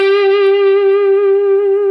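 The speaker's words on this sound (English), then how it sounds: "It's kind of like old schoolish, crunchy, overdriven sound." An electric guitar with crunchy, old-school overdrive and reverb sustains a single loud, bright note with rich harmonics, held steadily without a break for the whole stretch.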